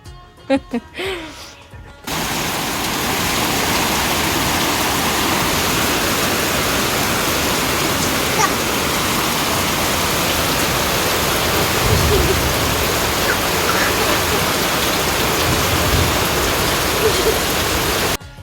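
Heavy rain pours steadily for most of the stretch, a dense, loud, close wash of drops on surfaces after a few brief knocks and handling sounds at the start; no voices are heard.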